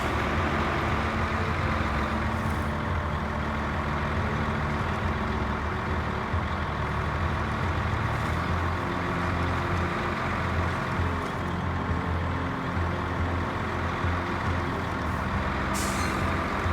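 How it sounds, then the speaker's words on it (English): A heavy truck engine drones steadily under load while pulling a massive trailer in a truck driving game, with brief hissing bursts of air brakes near the start and end. "This truck is awesome for these type of trailers."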